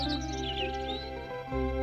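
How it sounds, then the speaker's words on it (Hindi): A small bird chirps faintly in the distance, a few thin high tweets over a steady low background hum, with no talking. "दूर से आती है चिड़िया की आवाज।"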